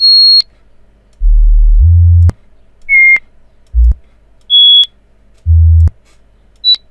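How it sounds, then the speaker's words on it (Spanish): Short, pure high-pitched test tones sound alone at equal loudness, several brief beeps spaced apart and interleaved with deep low-pitched hums, demonstrating how a higher pitch seems louder than a low one of the same amplitude. "parecían tener una sonoridad menor a un sonido más agudo como este"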